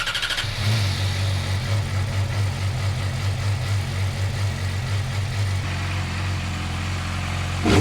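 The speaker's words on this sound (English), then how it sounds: "Glad the bike cranked up first try." A Yamaha R6 sport bike that sat for over a month cranks briefly, then starts and settles into a loud, steady, slightly rough idle close by, with no talking.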